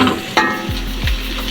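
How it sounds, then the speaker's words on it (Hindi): Green onions being stirred into egg fried rice in a pan over a full flame, with loud, continuous sizzling and a few quick scraping stirs close by. "हरी प्याज डाल के अच्छे से मिक्स करना है इसे।"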